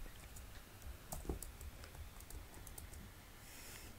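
Computer keyboard typing, a faint, irregular run of light key clicks over a soft background hiss, with small bursts of quick taps.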